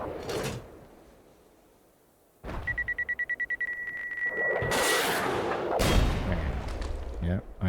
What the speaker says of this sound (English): This is finally the AGM. So these are air-to-ground missiles.